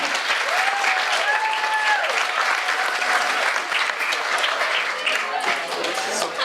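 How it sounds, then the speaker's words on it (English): Wedding guests applaud at a reception as the bride makes her entrance, a steady, full round of clapping from a crowd throughout, with cheering voices and a few whoops rising above it. "let's give a round of applause for the appearance of the bride"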